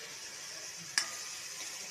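Black cumin, radhuni and chilli sizzle in hot oil, a soft, steady frying hiss marked by one brief sharp crackle.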